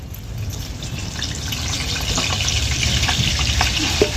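Green chillies frying in hot oil in a pan over a wood-fired stove, a steady close crackling sizzle that grows slightly louder, with a few faint pops.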